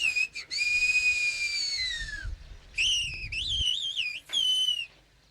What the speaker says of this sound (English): as when Marguerite whistles to Jeannot to ask when her husband's coming home for dinner